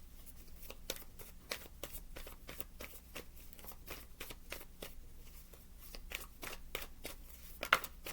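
Tarot deck being shuffled by hand, a rapid rhythmic series of crisp card riffles and flicks, close and quiet, with no talking.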